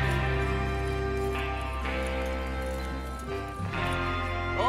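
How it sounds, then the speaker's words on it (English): Horses from the Red Dead Redemption 2 game clip-clop along at a steady trot under dense game music and ambience, with a brief whinny rising amid the continuous hoofbeats. "Get your horses ready."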